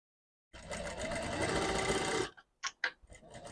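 A sewing machine stitches the front and back of a long full-circle gown together in one close, steady burst of under two seconds. A few short clicks and rustles of fabric handling follow.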